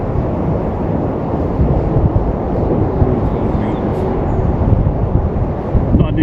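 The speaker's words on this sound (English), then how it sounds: "I can feel the wind here" Wind buffets the microphone beside the River Calder as a steady, loud low rumble that fills the whole stretch.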